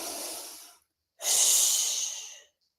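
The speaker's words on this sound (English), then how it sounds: "One more time, deep breath in." Two deep breaths during a pelvic floor exercise, each a long, close, airy rush through the mouth or nose separated by a short pause, with no other sound around them.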